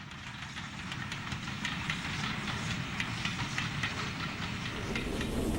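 A Standard steam locomotive with ten coupled wheels runs under steady power, giving a continuous, even roar of exhaust and running gear with faint rhythmic beats, heard close and without any talk.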